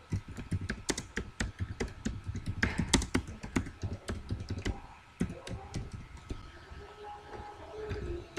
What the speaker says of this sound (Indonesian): saya ketikkan